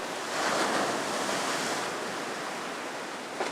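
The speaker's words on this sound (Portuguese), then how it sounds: "Ondas do mar se quebram em arrecifes." Sea waves break over a reef with white foam spilling onto dark rocks near a small lighthouse, a steady broadband wash of surf that swells and recedes under wind, with no voices.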